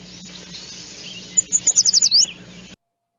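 A yellow warbler sings a quick series of about eight bright, sweet chirped notes that rise in a short burst, clear over a faint background hiss before the sound cuts off.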